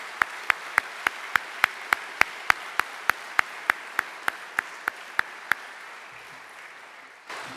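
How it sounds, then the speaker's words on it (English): Sharp, evenly spaced claps at a 2015 Hargrave graduation commencement ceremony land about three times a second for roughly five seconds, then stop, leaving a quiet room. "join me in a round of applause for the staff and the faculty and these great Americans"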